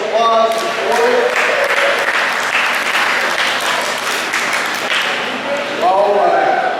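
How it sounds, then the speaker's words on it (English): Steady, loud round of applause from a fair main-show audience, dense clapping filling the whole stretch with a few whoops and voices rising through it, strongest at the start and again near the end. "Everybody, give them all a round of applause for it."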